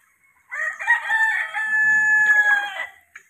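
A Rhode Island Red rooster gives one loud, close crow lasting about two and a half seconds, alone against a quiet background.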